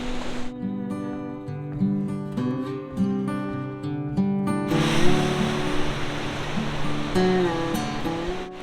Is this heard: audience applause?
no